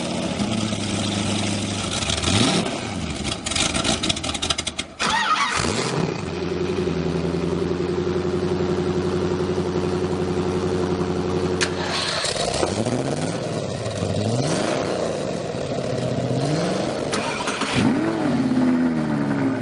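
An Audi R8 engine starts and revs loudly up close, settling into a steady idle and then climbing and falling through several sweeping revs, with a rough burst near the middle.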